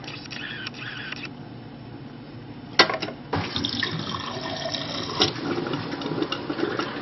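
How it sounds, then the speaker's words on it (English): Water runs and splutters from a GE refrigerator water dispenser with sharp bursts and hissing spurts as trapped air purges through the system, then flows more steadily, close by. "A lot of air in the system that's purging through."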